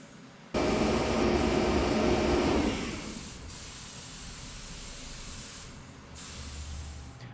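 Spray gun applying paint to a custom front winch bumper and fascia for a Nissan Frontier, a steady close hiss lasting about two seconds that cuts off, leaving a quieter airy background.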